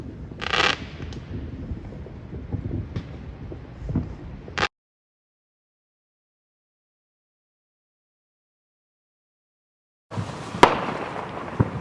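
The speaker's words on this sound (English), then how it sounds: "Hear the fireworks in the background." Fireworks burst on the Fourth of July, heard from a rooftop deck as scattered distant pops and crackles, broken by a stretch of near silence.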